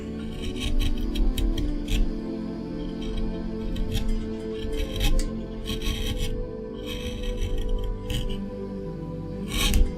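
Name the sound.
carving wood with a big gouge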